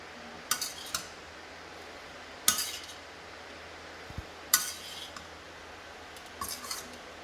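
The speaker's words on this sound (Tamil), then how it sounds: "இந்த ரைஸை மிக்ஸ் பண்ணிவிட்டு இந்த சாலட் லெட்டஸ் சேர்த்துக்கலாம்ல." Utensils stirring and tossing a rice salad in a bowl, giving a few sharp scraping clinks in separate bursts with quiet gaps between them.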